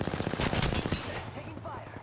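Rapid bursts of automatic gunfire in the video game Apex Legends rattle out in a dense fusillade for about a second, then fade into quieter scattered game sounds, fairly soft overall.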